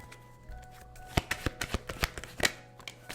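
Tarot cards are shuffled by hand in a quick burst of sharp riffling snaps and slaps, close and fairly loud, over a quiet room hum with no talking.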